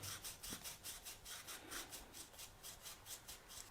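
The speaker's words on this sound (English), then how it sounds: "I'm using 1200 grit wet sanding paper and I'm sanding the needle" An airbrush needle is wet sanded with 1200 grit paper, giving a steady run of close, soft rasping strokes in a quick back-and-forth rhythm, with no voices.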